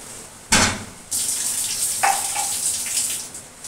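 Water for tea poured out into a kitchen vessel, heard as a close, loud gushing stream in two bursts, the second running on with some splashing, with no talking.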